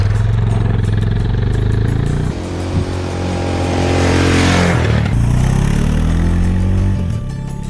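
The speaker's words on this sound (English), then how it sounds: "we're testing out the DR650 some more." Suzuki DR650 motorcycle ridden on a test ride in the Ozarks, its engine droning loud and close with steady revs, a dip as it shifts around the midpoint, then climbing again.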